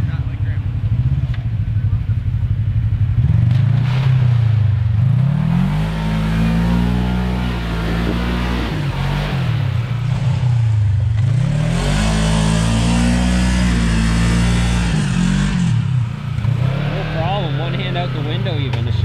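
A Kawasaki KRX 1000 side-by-side UTV on a winter ravine trail revs loudly and close, its engine rising and falling through repeated throttle swells, with voices talking over it.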